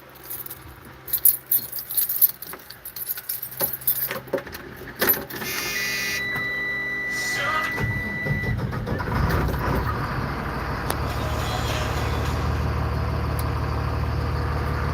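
School bus converted into a skoolie, keys jangling and clicking before the engine cranks and starts, then settles into a steady low idle rumble that continues to the end.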